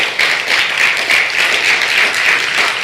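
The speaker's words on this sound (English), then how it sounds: "Clap your goddamn hands if you're ready for revolution." A rally audience claps hands in a dense, steady burst of applause that holds evenly loud from start to finish, with no voices above it.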